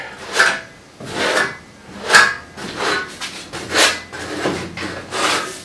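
Plaster being worked onto a croft wall in the Hebrides with a trowel or float, a run of rhythmic rasping scrapes repeating roughly every half second to second, close and fairly loud, with no talk.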